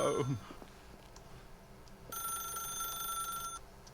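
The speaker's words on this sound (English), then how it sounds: "As Stanley picked up the phone, a white light engulfed him" A telephone rings in the video game The Stanley Parable, a bright electronic trill that starts partway through and holds steadily for about a second and a half over a quiet room ambience.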